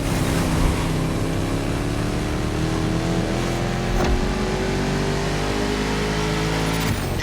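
A 1969 Mustang Boss 429 in the racing game The Crew Motorfest revs hard, a loud, sustained engine roar with climbing pitch that runs unbroken throughout.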